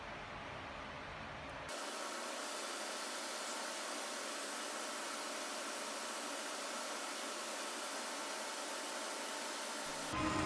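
A metal lathe turns a gear part, giving a steady, loud, broadband whirring hiss that runs unbroken for about ten seconds with no talking.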